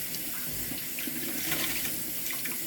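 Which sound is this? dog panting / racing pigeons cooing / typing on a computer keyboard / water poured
water poured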